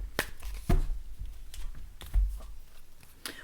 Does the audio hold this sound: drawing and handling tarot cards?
yes